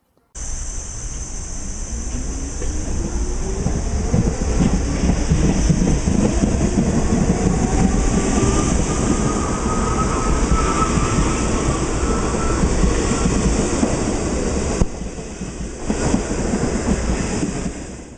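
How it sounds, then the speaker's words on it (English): A General Electric–powered R44 subway car on the Staten Island Railway runs steadily, with a loud continuous traction whine that rises in pitch as it accelerates over a dense rumble of wheels on rail. "The Staten Island R44s are powered by General Electric, which means they sound similar to the R62s."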